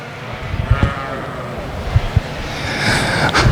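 Cheviot yearling ewes at a livestock show, a few close bleats over a busy background of crowd noise and a voice talking.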